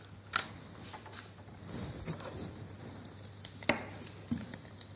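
Potatoes browning in oil in a frying pan, a soft steady sizzle with scattered stirring clatters and a few sharp utensil knocks, close by with no talk.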